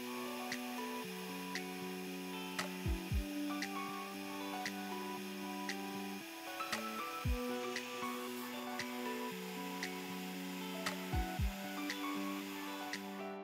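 A laser cutter, an Atomstack X20 Pro, cutting 6mm plywood, producing a quiet, steady mechanical hum with repeating stepped motor tones, faint ticks and occasional low thumps as the head moves.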